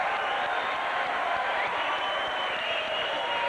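A boxing arena crowd in Tacoma is on its feet, roaring and cheering in a dense, continuous wall of noise with no break.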